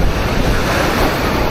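Ocean surf breaks on a Rio de Janeiro beach, a loud, close, steady wash of waves mixed with rushing wind noise on the microphone.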